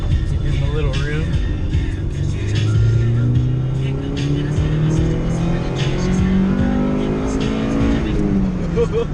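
A Honda car engine idling and revving after its exhaust leak was repaired, a steady deep rumble with rising and falling pitch sweeps throughout, loud and close, with people talking over it.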